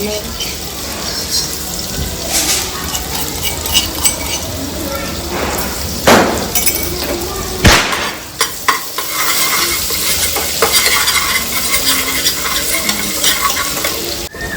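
Ginger garlic paste fries in hot oil, a loud continuous sizzle with stirring strokes and scrapes, close up, under some background voice and a running-water hiss.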